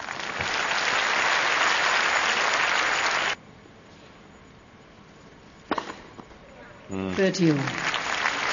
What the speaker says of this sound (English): The crowd applauding as well as Vaidisova